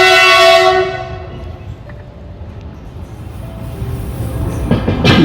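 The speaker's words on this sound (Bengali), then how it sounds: "এই যে মাল ট্রেন পাস করছে" A goods train crossing the Sevoke railway bridge, opening with a loud horn blast that fades into a steady, rumbling roll of wagons, swelling again with a sharp screech near the end.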